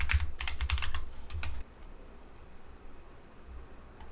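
Quick, light tapping on a computer keyboard at a desk, a dense run of keystrokes for about a second and a half, then a quiet hum of room noise.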